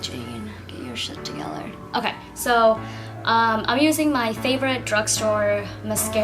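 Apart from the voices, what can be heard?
None of the usual background noises is heard.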